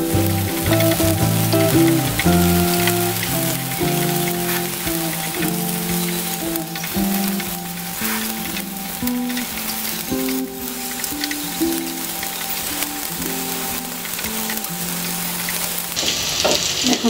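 Onion paste frying in a pan for homemade chicken fried rice gives a steady, continuous sizzle that holds at the same loudness throughout, with music playing underneath.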